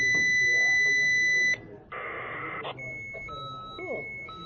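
Marine VHF DSC radio sounding its alarm: a steady high electronic beeping tone cuts off, a brief burst of buzzing follows, then shorter repeated beeps sound close and loud while people talk over it.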